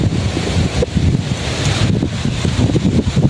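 Typhoon Kristine's strong wind roars and buffets the microphone continuously, with heavy low rumbling gusts and a steady broadband rush throughout.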